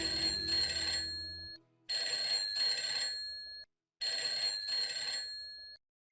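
A landline telephone in a household keeps ringing in three long bursts with short silent gaps between them, loud and close, with no one speaking.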